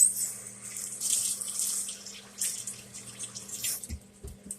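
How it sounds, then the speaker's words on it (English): A kitchen tap runs while hands are washed at the sink, with splashing water that rises and falls, a low steady hum beneath, and a few soft knocks near the end. "let me wash my hands off"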